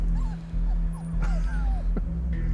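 Several high, thin puppy whimpers and short yips rise and fall over a steady low hum, with a couple of sharper yelps near the end.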